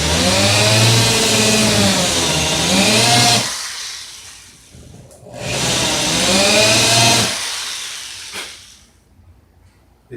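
A noisy power tool reams out a hole during boat building. It makes two long, loud, harsh whining bursts, each fading out before the next begins, with no talking.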